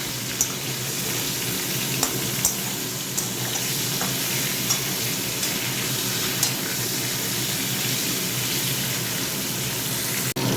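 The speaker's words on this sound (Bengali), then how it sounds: "পটলগুলো একটু ভেজে নিয়ে আলুটা দিয়ে দেবো।" Pointed gourd (potol) frying in a pan, a loud dense continuous sizzle with a few sharp clicks of stirring, no talk.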